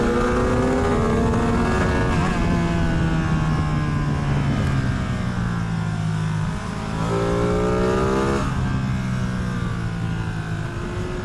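A Ducati Streetfighter V2 motorcycle engine revs hard on a mountain ride, its pitch climbing and dropping through repeated gear changes, loud and close with steady wind rush throughout and no talking.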